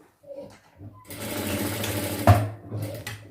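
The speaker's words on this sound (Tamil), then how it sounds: "இப்படி வச்சு இதுலேயே நம்ம ஒரு தையல் போட்டுக்கலாம்" Sewing machine stitching fabric for chudidhar pants in a tailoring lesson, a steady close mechanical whirr running for about three seconds after a short start, with a brief louder knock midway.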